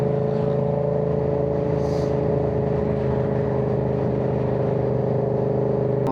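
Yamaha R7 motorcycle engine holding a steady, loud drone with strong low harmonics, sustained evenly throughout without pauses or talk.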